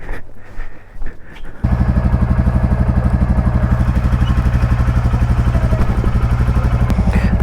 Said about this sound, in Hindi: अभी एक बार बाइक स्टार्ट कर ले और घर से बाहर निकाल ले।